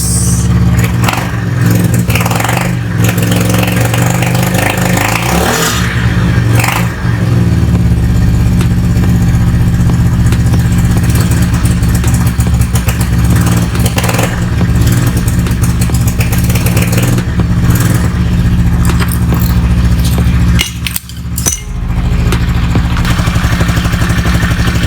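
A carbureted Honda Scoopy scooter engine runs loud and close, idling with a rough clattery drone and breaking into repeated throttle blips and revs throughout, with one brief dip near the end.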